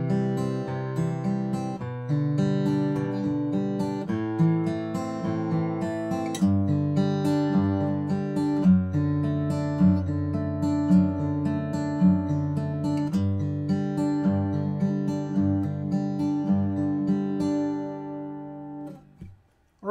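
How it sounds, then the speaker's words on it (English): Acoustic guitar fingerpicked slowly through inverted chords over a smooth descending bass line, played alone at a steady moderate volume for about twenty seconds before ringing out. "let me play it for you slowly with these chords and listen to this descending bass line"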